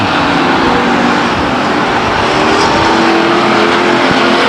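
Race cars on the oval at Stockton 99 Speedway roar continuously and loudly in a dense, unbroken wash of engine noise, with several cars running together through the turns.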